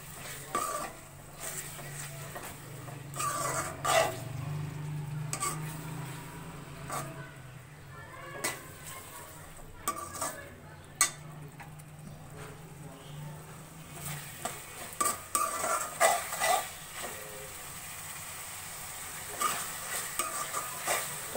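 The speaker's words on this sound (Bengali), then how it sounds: "টমেটোগুলো হালকা ভাজা হয়ে গেলে বাকি মশলাগুলো আমি এর মধ্যে এক এক করে দিয়ে দেব।" Chopped tomatoes fry in a pan, a steady sizzle broken by frequent scraping and clinking as a utensil stirs them against the metal, close and moderately loud with no talking.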